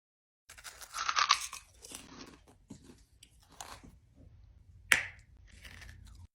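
Freeze-dried Starburst Duos candy is bitten and chewed up close, a loud brittle crunch followed by quieter crumbling chews and one sharp crack later, with silence between and no talking.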